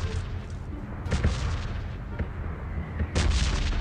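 A grenade blast in PUBG Mobile on the Sanhok map, with heavy booming low rumble and sharp bursts of explosive noise, one loud close detonation near the end.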